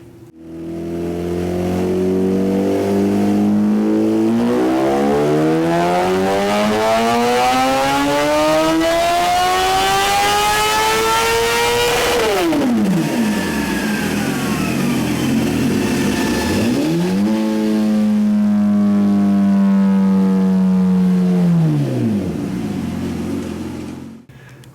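A 2017 Suzuki GSX-R1000 motorcycle engine revs hard on a dyno with two degrees of added ignition timing, climbing in a long sustained pull, dropping off, then rising again in a second shorter sweep, loud and continuous with no talk.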